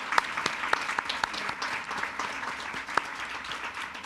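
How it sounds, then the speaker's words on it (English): Audience at a State of Women community event claps for donors, a moderate spread of hand claps with sharp individual claps standing out, continuing evenly to the end without talk. "let's give a round of applause for those people"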